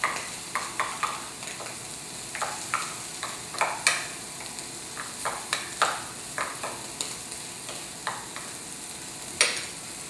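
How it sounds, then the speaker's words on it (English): A spoon works mascarpone cheese into a cream and butter sauce, with repeated wet clicking stirs and light scraping against the pan over a soft sizzle, close and fairly quiet, no talking. "Mix this up in here. Just get that mixed."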